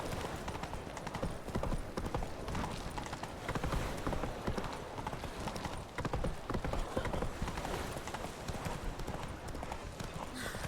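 The horse Roach trots along in The Witcher 3, hooves clip-clopping in a steady, continuous rhythm close by, moderately loud, with game dialogue occasionally overlapping.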